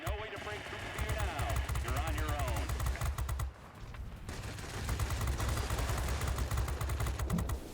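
Aircraft machine guns and cannon on a Me 210 heavy fighter in World of Warplanes fire in rapid, sustained bursts, loud and close over a steady engine drone, with a brief lull midway before firing resumes.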